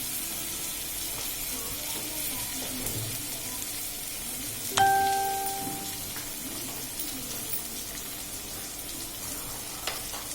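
Egg, drumstick and cashew curry simmers and sizzles in a pan after a splash of water is added, a steady soft frying hiss throughout with a brief clink of a utensil midway.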